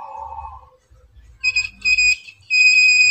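A multimeter in continuity mode beeps while probing the normally closed and common contacts of a limit switch, giving several short, loud, steady electronic tones, the last one held, with a low hum underneath.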